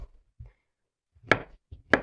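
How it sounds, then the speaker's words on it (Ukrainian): Two crisp knife chops on a cutting board as young beetroot is cut into thin strips, close and distinct, with a couple of softer taps between them. "буряк нарізаю соломкою."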